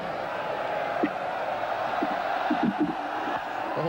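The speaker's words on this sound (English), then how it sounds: "The crowd really egging him on." A cricket crowd at a match against England cheers on a batsman in the last over, a steady broad roar with scattered shouts and whoops rising through it, distant and sustained.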